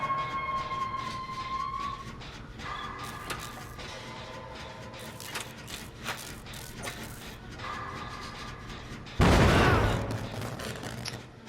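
In Dead by Daylight, clicking and ratcheting generator mechanisms tick along quietly before a sudden loud explosive burst erupts near the end and then rings off.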